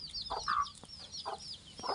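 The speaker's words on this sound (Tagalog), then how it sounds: "Mga maliliit na manok." Small chickens cluck in short soft bursts nearby while being fed whole-kernel corn, with faint high chirping peeps running throughout.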